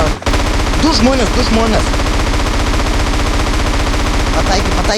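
Rapid, continuous automatic gunfire rattles loudly from a game while a voice speaks briefly over it.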